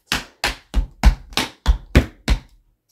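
Tap shoes strike a hard floor in a beginner tap routine of flap heels and Broadway steps: eight crisp, evenly spaced taps, close and fairly loud, with no voice over them.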